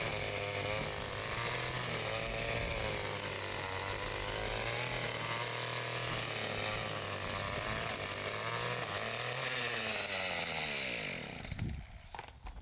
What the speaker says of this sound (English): So I'm re-stringing the weed eater. That's the noises you're going to be hearing right now.